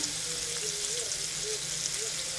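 Fish pieces fry in a pan with a constant dense sizzle and crackle that fills the whole stretch, close and steady.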